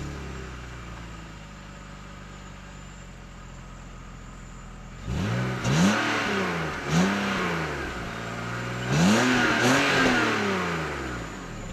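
A 2001 BMW 530i idles quietly, then its engine revs up in several rising and falling bursts, fairly close and loud.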